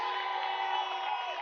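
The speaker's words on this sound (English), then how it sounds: "Give Ronnie Rascal a round of applause." A crowd at a Labour party rally in Saddlers cheers for Ronnie Rascal, a continuous dense roar of voices held at an even level throughout the short stretch.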